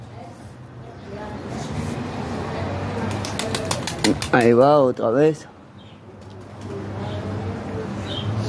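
A homing pigeon flaps its wings and coos outdoors in Barcelona: wing claps burst in a rapid series, then loud wavering coos follow close by, with someone talking before and after.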